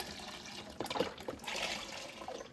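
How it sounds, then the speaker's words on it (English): Four cups of beef broth poured from a box into a soup pot, a short quiet liquid pour with gurgling splashes. "I'm gonna add a whole box, which is 4 cups of beef broth to get it started."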